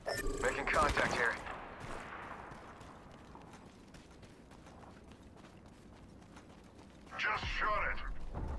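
Apex Legends gunfire: a loud burst of rapid shots opens the scene, then fades to faint ticking mechanisms, before another volley of shots sounds near the end.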